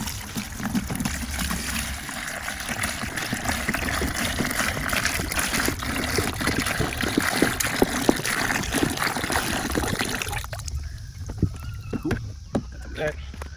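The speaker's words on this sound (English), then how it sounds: "Gonna mix a little bit of water in here." Water pours steadily into the cooling system of a Lexus GS300 during a heater core replacement, a continuous close splashing trickle that changes tone near the end as the flow thins out.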